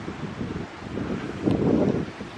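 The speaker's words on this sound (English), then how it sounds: "it's certainly wild and windy up here and overgrown" Gusty wind sweeps across an exposed, overgrown coastal hilltop at Splash Point, Watchet, a rough low rumble that swells louder toward the end.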